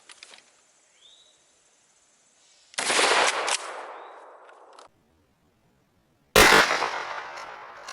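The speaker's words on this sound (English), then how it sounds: "Let's take a shot to see what type of spread we got" A KSG 12 shotgun fires a single loud blast of 00 buck at about 7 yards, followed by a second sharp report with a trailing decay, the rest quiet apart from faint insect chirping.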